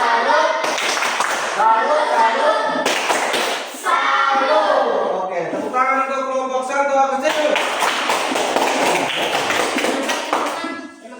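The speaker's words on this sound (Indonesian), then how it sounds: "Oke, tepuk salut" A classroom of students performs the rhythmic Indonesian "tepuk salut" clap, patterned bursts of unison clapping in sequences broken by chanted group voices, fairly close and loud.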